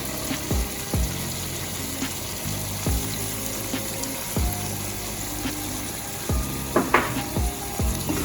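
Tomato and saltfish frying in a pan give a steady sizzle, broken by a few soft knocks of a utensil against the pan.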